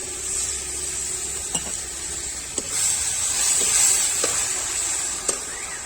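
Steady hiss of water sizzling in a hot frying pan, with a few sharp clinks of a utensil against metal scattered throughout.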